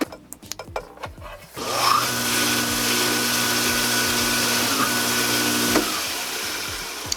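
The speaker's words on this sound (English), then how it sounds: "Let's see how loud the motor is." A cheap tabletop tile saw, filled with water, spins up and runs steadily, its motor giving a smooth, even hum with a faint whine that holds for several seconds before winding down, after some handling clatter.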